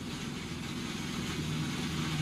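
A NASCAR Cup race car with a failing engine runs rough as it turns into the garage, giving a steady, dense, low mechanical drone that stays loud and unbroken throughout.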